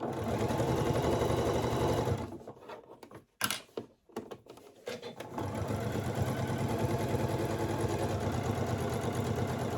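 A sewing machine stitches a zipper onto a fabric make-up bag, running in a steady, loud, fast mechanical whir up close, pausing briefly in the middle with a few clicks and handling sounds, then resuming its even hum.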